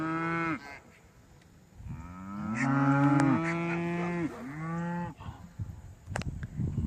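Cattle lowing in a pasture with young calves nearby, several long drawn-out moos that overlap and rise and fall over a few seconds, close and loud against a soft outdoor background, no speech.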